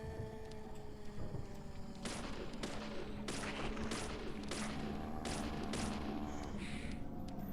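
Shotgun blasts from ghosts in Deadly Premonition: a series of about eight sharp, separate shots, spaced roughly half a second apart, over quiet game music.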